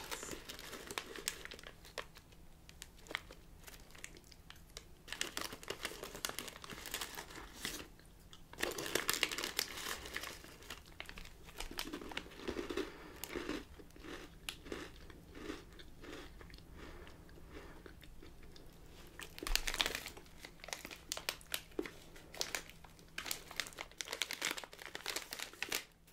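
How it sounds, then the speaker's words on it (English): Snack packets of American food crinkling and rustling at close range, quiet and intermittent over about half a minute, with soft crunches now and then and almost no talk. "The reason I cut these packets open and not tear them open is because when you tear them open they're a lot louder"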